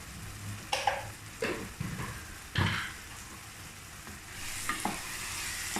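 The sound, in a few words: masala simmering in a pot on low heat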